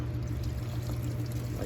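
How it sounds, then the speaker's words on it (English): Warm coolant gushing steadily out of a failing BMW engine coolant outlet flange after it is pried loose with a screwdriver, a continuous close pouring rush. "coolant will come gushing out"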